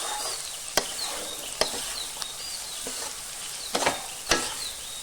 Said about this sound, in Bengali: সবজিগুলোকে আমি ভালো করে ভেজে নেব